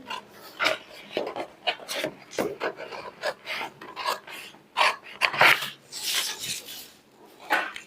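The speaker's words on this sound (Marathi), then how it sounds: "त्याचप्रमाणे आपल्याला ही कटिंग करून घ्यायची आहे पेपरची" Scissors cut through paper along a marked boat-neck blouse pattern, giving a run of close, crisp rasping snips and rustles in an uneven rhythm, heard alone without talk.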